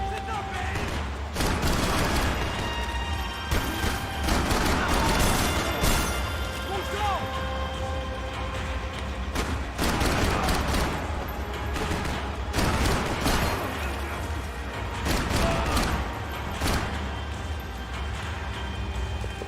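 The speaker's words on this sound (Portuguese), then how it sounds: "Vários tiros, né?" Bursts of rapid gunfire with explosions and crashes in Max Payne 3, a loud game soundscape, continuous and busy, with a voice talking over it.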